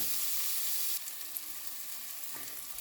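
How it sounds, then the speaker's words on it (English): Onions cook in a pan for a roasted cauliflower curry, a steady bright sizzle that drops in level partway through, with faint occasional stirring taps, close up and without talk. "just stirring occasionally until my onion is a little bit translucent"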